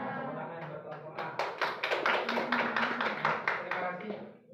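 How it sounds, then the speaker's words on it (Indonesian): Classroom clapping from a group of students praising group A in a teacher-training lesson, a run of sharp rhythmic claps building over a few seconds with voices murmuring underneath. "Tepuk tangan buat kelompok A."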